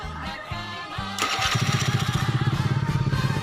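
An electric starter cranks in a few short bursts, then a 130cc Honda Scoopy scooter engine catches and settles into a fast, steady idle close by.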